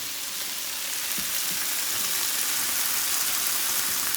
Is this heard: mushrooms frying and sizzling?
yes